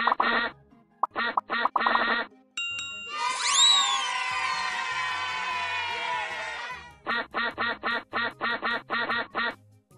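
Cartoonish duck quacks ring out repeatedly, broken up by short chimes and a long bright swooping jingle, all in a rhythmic game-like pattern.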